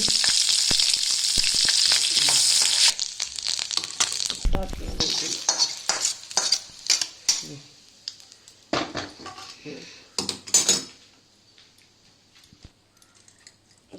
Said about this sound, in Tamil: ஜீரகம், 1 பட்டை, 1 ஏலக்காய், 1 லவங்கம் போட்டு